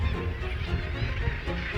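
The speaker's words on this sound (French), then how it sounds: "Ces murs de granit délité offrent aux milliers d'oiseaux des corniches et des arêtes qu'ils se partagent en criant" A dense gannet colony on weathered granite cliffs calls continuously, a layered mass of harsh honking cries with no clear gaps, steady and fairly loud.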